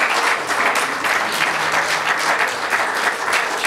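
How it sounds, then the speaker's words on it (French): A church congregation at an Easter Sunday service applauding for the men of God, dense sustained clapping from a crowd, loud and even throughout. "Est-ce qu'on peut acclamer pour les hommes de Dieu ce matin?"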